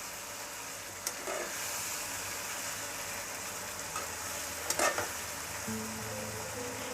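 Curry leaves stirred into a pan with tomato for a dry prawn thokku, a steady low sizzle of frying running throughout with a few brief clinks and scrapes of the spoon.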